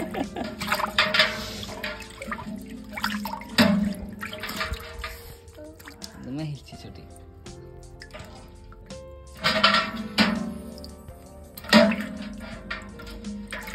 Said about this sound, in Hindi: पानी तो बहुत गंदा हो गया है तो चेंज कर देते हैं